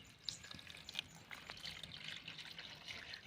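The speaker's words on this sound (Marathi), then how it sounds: "आता पाणी टाकून आपण स्वच्छ 2 पाण्याने धुवून घेऊया," Faint splashing and trickling water, soft and continuous, as grated potato is rinsed in water in a bowl.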